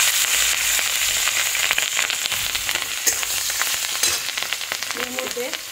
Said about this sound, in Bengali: এবার কাঁচা লঙ্কাগুলোকেও দিয়ে দিচ্ছি।